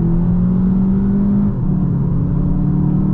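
A 2023 VW Jetta GLI under full throttle on the autobahn, heard from inside the cabin: a steady engine drone with a pitch that rises and then drops at a gear change midway, loud and continuous with no talk.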